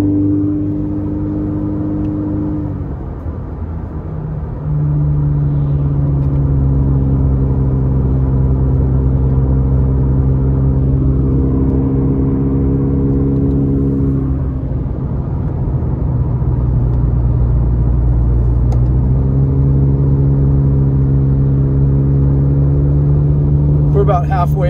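A car climbing Highway 330 toward Big Bear, its engine droning steadily and loudly with long sustained tones that shift as gears change, continuous road hum throughout.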